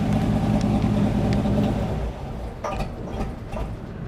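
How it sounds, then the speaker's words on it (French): A 1961 Chevy Apache 10 pickup's engine idles with a low, steady rumble, then cuts out about halfway through. A few faint knocks and clicks follow as it runs on slightly after switch-off. "Bon, on va arrêter le moteur,"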